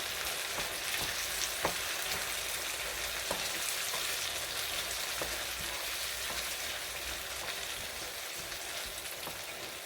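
Salade méchouia ingredients mixed in a hot pan give a steady close sizzling hiss of frying with faint soft stirring scrapes, continuous and even throughout, no voices.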